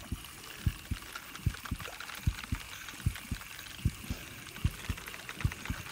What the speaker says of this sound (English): thumping noise in the background. That's going to be a heartbeat.